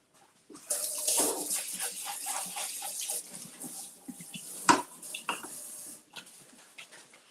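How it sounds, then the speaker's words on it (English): Green onions rinsed under a running kitchen tap, a steady close stream of water splashing for several seconds with brief spatters, then shutting off near the end. "Let's rinse them off."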